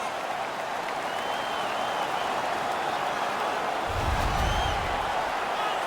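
A home crowd at a sports game roars in a steady, broad wash of cheering and applause, swelling slightly toward the end.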